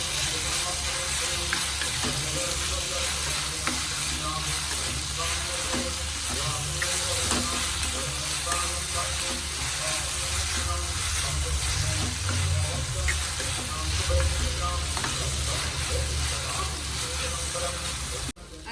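Chopped tomato frying in a pan with sliced curry leaves, a continuous loud sizzle and crackle with occasional stirring scrapes throughout.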